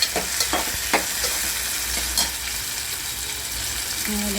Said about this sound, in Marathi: चला आता कांदा टाकलेला आहे पॅनमध्ये, कांदा भाजत आहे। मिरची टॅमॅटो भाजायला टाकला आपण